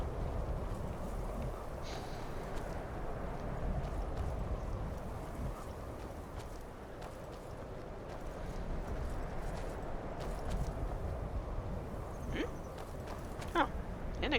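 Horse hooves in the video game Skyrim VR clop along at a steady walking pace over a constant, low background rumble, with a few sharper clicks near the end.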